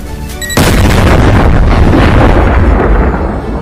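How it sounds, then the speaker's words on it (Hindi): A massive meteorite impact explosion erupts abruptly after a brief tonal lead-in, followed by a sustained, roaring rumble of debris and fire that barely fades. "इसमें भयानक आग लग गई और एक बहुत बड़ा विस्फोट हुआ।"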